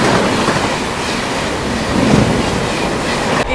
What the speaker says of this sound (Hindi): आधी से ज़्यादा ट्रेन जो हमारी प्लेटफॉर्म छोड़ चुकी है फिलहाल